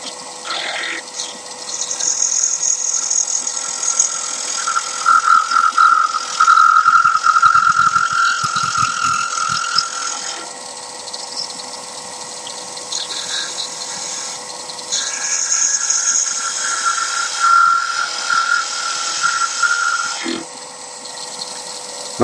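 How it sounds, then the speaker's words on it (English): A half-inch spindle gouge takes a light skim pass on wood spinning on a lathe, shaping a Christmas ornament pendant: a steady whirring motor hum with a thin, shifting high scraping cut rising and easing over it. "I might just take a skim pass with the wing of my 1/2-inch spindle gouge"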